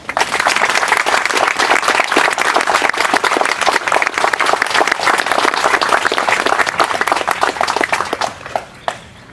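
Audience at a 9/11 memorial ceremony at Saddleback College breaking into sustained, loud applause for an arriving speaker, dense steady clapping for several seconds before tapering off into a few scattered claps.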